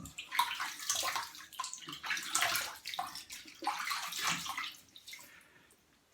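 Water splashes at a bathroom sink as hands wet a face before a shave, a close, steady run of wet splashing and trickling that fades out near the end, with no talk.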